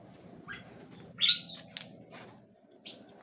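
Small birds in an aviary around a mango tree give a few short, faint chirps and tweets over a low, steady background hum, with brief louder calls scattered across the moment.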